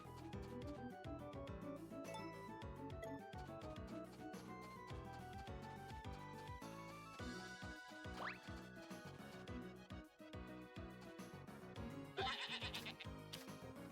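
A goat in the farming game Story of Seasons: A Wonderful Life bleats a few times over continuous game music, with the bleats soft and partly blended into the melody.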